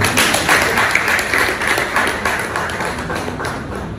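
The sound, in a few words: audience applause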